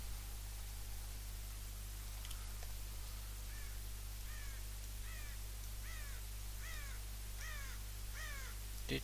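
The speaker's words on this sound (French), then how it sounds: "on t'entend vraiment de loin, le oiseau" A bird in the video game Rising World calls with a series of harsh, crow-like caws. They repeat at a steady rhythm, grow slightly louder, and sit over a constant low electronic hum and hiss.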